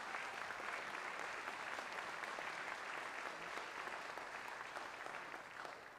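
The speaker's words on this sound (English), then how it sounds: "Let's greet them with a round of applause." A debate audience at a California congressional district event claps for the moderators, a soft, even wash of many hands that holds throughout and thins slightly at the very end.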